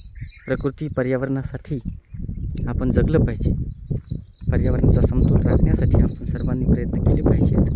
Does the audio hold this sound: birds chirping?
yes